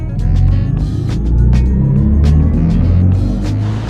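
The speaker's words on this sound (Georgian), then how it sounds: "ეს არის BMW i4, რომელიც გამოირჩევა იმით, რომ კომპოზიტორმა ჰანს ციმერმა შექმნა მისთვის სპეციალურად ხმა" A BMW i4 electric car plays its synthesized drive sound, composed by Hans Zimmer: a loud, close, swelling rumble of layered tones, steady with gentle surges across a few seconds.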